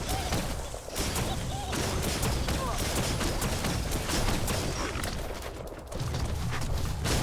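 The Zifu rifle fires in the game Biomutant, a dense, continuous stream of loud shots and impacts with a brief dip near the start, while someone talks over it.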